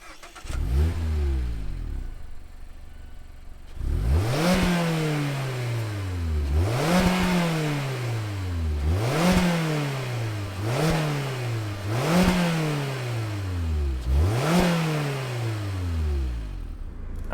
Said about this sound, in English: let's fire up this MX-5 and hear what it sounds like